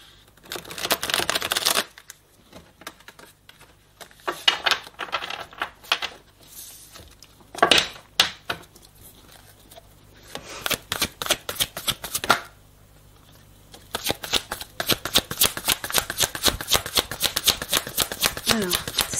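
Playing cards shuffled repeatedly for a card reading, bursts of rapid riffling flutter and soft slaps coming in uneven bunches with short pauses between, close and fairly loud.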